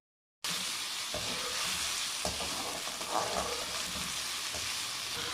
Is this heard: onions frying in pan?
yes